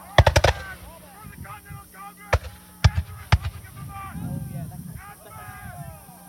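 Musket gunfire at a Hubbardton battlefield re-enactment: a quick ragged burst of several shots, then scattered single cracks at moderate distance, with a narrator talking throughout.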